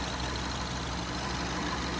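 BMW 550i with the N63 engine idles with a weird noise, a dense steady rumble close up that stays unchanged throughout, with no talking.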